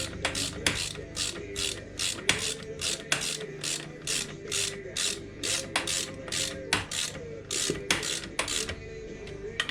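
Rapid ratchet wrench clicking close up as bolts are tightened on a Yamaha Banshee ATV, steady bursts of sharp mechanical ticks repeating in an even rhythm.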